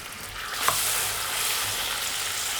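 Butter and orange juice heat in a sauté pan over medium heat, producing a steady, even hiss with one small click near the start.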